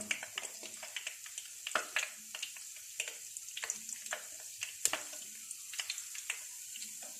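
Green chillies dipped in batter frying as mirch pakora in hot oil, a soft steady sizzle with scattered crackles and pops, fairly faint and close, with no talking.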